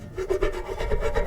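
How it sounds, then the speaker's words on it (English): AI-generated sound effect of a metal pipe being sawed: a steady back-and-forth rasping scrape in about eight quick strokes, close and alone at moderate level. "Is this someone sawing a metal pipe?"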